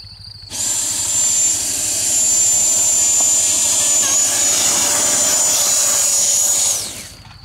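Dynam Hawker Hunter Swiss 70mm EDF jet with a 12-blade fan on 6S power, spooling up to a loud, steady high-pitched whine and roaring down a grass runway for takeoff, then cutting off sharply near the end.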